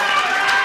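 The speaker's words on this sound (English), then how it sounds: "A round of applause for Kudus" A studio audience at a televised talent contest breaks into brief, steady applause and cheering for a contestant, a dense wash of clapping and crowd noise lasting well under a second.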